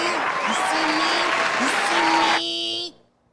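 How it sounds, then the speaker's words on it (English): Loud, sustained applause on a podcast keeps a dense roar with a few tonal notes riding over it, then cuts off sharply into silence near the end. "Did we finally cut that long ass applause?"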